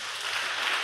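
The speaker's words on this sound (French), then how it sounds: "applaudissements plus fort." Applause from an audience at a church celebration closing ceremony, a steady broadband wash of clapping throughout the short moment without pauses.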